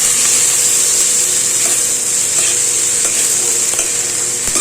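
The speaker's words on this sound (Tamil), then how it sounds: "நம்ம நல்லா வதக்கி விட்டுப்போம்" Eggplant sautéing in a pan: a steady close sizzle and frying hiss with a few scrapes and taps of the stirring utensil, no voices.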